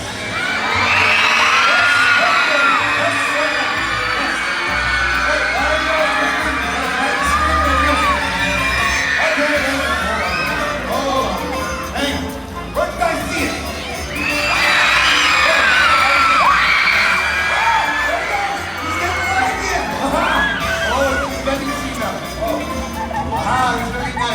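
An audience of children yells and screams loudly and continuously at a sea lion show at SeaWorld Orlando, Florida, with surging waves of shouting, whoops and cheers, occasional bangs, and adult voices talking within the din.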